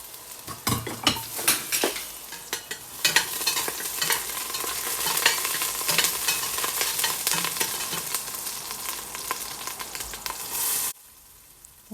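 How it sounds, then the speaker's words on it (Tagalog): Garlic sautéing in hot oil in a pan, with a dense sizzle and frequent scraping clicks of a utensil stirring it, close by, before the sound cuts off abruptly near the end; no one speaks. "Gisa natin yung bawang."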